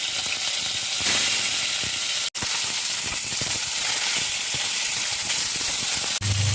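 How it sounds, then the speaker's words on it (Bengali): Pholoi fish frying in a pan: a loud, constant sizzling hiss fills the whole stretch, with brief breaks and faint clicking and rattling from the pan. "আমার মাছ ভাজা হয়ে গেছে"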